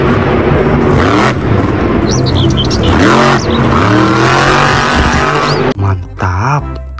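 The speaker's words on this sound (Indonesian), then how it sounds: "yang ini mobil monster." A toy monster truck plays a loud engine revving effect, rising and falling repeatedly with high squealing tires, then cuts to a brief, choppier burst of engine sound at the end.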